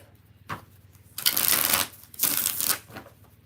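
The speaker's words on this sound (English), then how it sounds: "I said 2 more shuffles." Tarot cards being shuffled in two bursts of riffling and brushing, each about half a second long, with a soft tap before them, close up and fairly quiet, with no talking.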